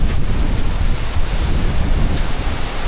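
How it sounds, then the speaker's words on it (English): Steady wind gusts at the seaside in Cambodia, buffeting the microphone with a continuous loud rumble mixed with surf, no voices. "it's windy here"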